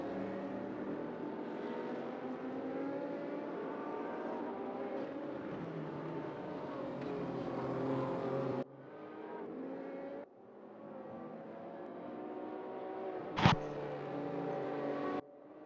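GT race cars lap the Nürburgring in a sim racing game, engines droning and revving through gear changes, the pitch rising and falling as cars run close together, with a sharp click near the end.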